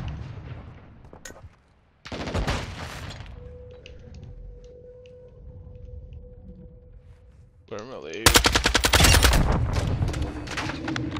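Gunfire in the video game Modern Warfare 2, bursts of rapid shots from a near weapon, a quiet gap with a steady tone in the middle, then a loud dense volley at the end.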